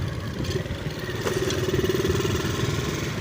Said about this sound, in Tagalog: Ito sila dalawang motor nila.